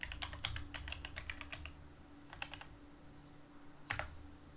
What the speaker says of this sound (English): I am not typing well tonight.